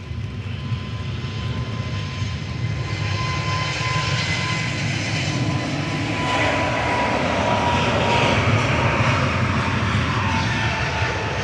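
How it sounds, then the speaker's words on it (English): A Ryanair airliner departing Manchester Airport roars steadily at a distance, its engine noise swelling gradually louder as it climbs away, with no voices. "Ryanair departing to Rocklaw."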